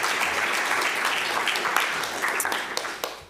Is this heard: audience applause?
yes